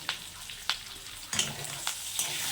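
Food fries in a pan, a soft, steady sizzle with several sharp crackles and stirring scrapes spread over a couple of seconds, fairly quiet and close, with no voices.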